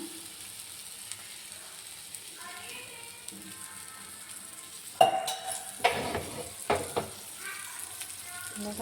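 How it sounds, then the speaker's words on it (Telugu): Oil sizzles in a pan as fish fries, a steady hiss that grows louder and busier halfway through, broken by a few sharp clinks and scrapes of a utensil against the pan. "కొంచెం ఆయిల్ వేస్తున్నాను."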